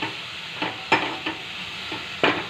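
Coriander and tomatoes sautéing in a pan for rasam, with a spoon stirring through them: soft sizzling underneath and a few distinct scraping strokes, close and moderately loud.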